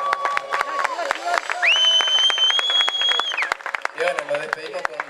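Audience applause for the teachers who organized the school event: dense, close clapping throughout, a long high whistle or whoop in the middle and voices calling out near the end.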